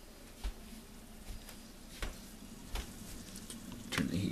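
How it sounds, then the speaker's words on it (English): A pot of cheeseburger rice bubbles and simmers with a steady hiss, broken by a few sharp pops and a louder burst of bubbling near the end. "well, you can hear that boiling away"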